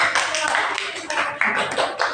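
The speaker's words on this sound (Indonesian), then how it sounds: "tepuk tangan untuk Bintang" A classroom group claps for a student during a guidance session, with brief, uneven bursts of hand claps running throughout and voices mixed in.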